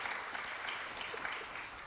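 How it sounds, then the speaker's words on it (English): A conference audience claps steadily for its speakers, a dense, even patter of many hands lasting throughout with no talk over it. "A round of applause for our excellent speakers."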